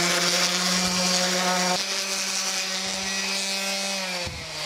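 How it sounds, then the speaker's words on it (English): A random orbital sander smooths the faces of a mahogany wood foundry pattern for a steam stoker engine valve, a steady loud motor whine with a dense buzzing hum that drops in pitch and cuts off near the end. "I got my random orbital sander here, and we'll just real quickly just get a nice flat"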